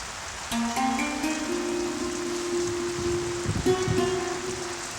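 Heavy rain pouring down in a steady, even hiss throughout, with long sustained musical tones rising and holding over the downpour.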